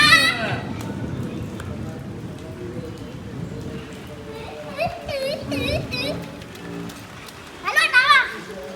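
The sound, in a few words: rain falling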